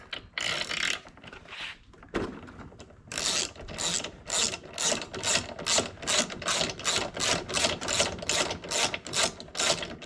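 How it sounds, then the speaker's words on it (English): A ratchet with a socket removes the spark plug from a Honda HRN216 lawnmower. Close, crisp clicking comes first in a few short bursts, then as a steady run of quick, evenly spaced back-and-forth strokes. "you want to take this spark plug out. It is a 3/16 socket."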